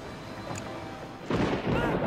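Thunder crashes after a lightning strike in Last Day of June, a deep broadband rumble swelling in mid-clip and rolling on loudly over a low ambient bed, with a faint voice beneath.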